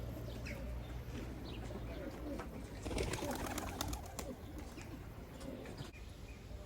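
Tumbler pigeons coo softly outdoors over open land while flying, a faint, continuous murmur of bird calls with light chirps and occasional voices in the background.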